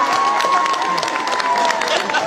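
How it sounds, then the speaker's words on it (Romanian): Loud, dense crowd applause with cheering and a sustained whistle-like tone, welcoming a folk orchestra from Piatra Neamț onto the stage; crowd voices mix into the clapping throughout. "Aplauze, vă rog!"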